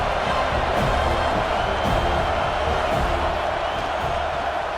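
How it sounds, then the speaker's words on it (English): A stadium crowd roars for the defense on a football third down: a dense, steady wall of cheering and whooping, with no single voice standing out. "Big 3rd down as the crowd gets behind this defense."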